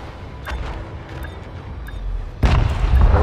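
A ship explosion in the space game Elite Dangerous, a sudden deep booming blast that erupts near the end after a stretch of faint distant thuds and rumbles.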